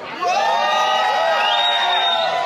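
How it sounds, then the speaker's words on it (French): A concert crowd at a show in Geneva cheers and whoops loudly in a dense continuous roar, close and sustained, with shouted voices rising above the mass of sound. "Ça s'applaudit quand même."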